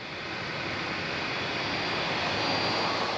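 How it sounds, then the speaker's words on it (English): Air France Concorde jet taxiing at Kennedy airport, a steady, loud engine roar and whine that holds constant and swells slightly over a few seconds. "Air France's Paris-bound Concorde departure is already negotiating the web of complex taxiways at Kennedy"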